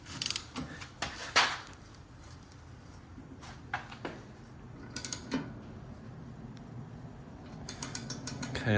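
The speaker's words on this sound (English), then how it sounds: "let me just get a regular ratchet. I'd rather have feel by hand as this is tightening up" Close-up hand ratchet work tightening the front axle pivot pin on a Kubota ZD1211 zero-turn mower, heard as sparse bursts of ratcheting clicks and creaks separated by quiet pauses.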